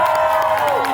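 A crowd cheers and whoops in a brief burst at holiday festivities, a broad wash of voices held steady and fairly loud throughout.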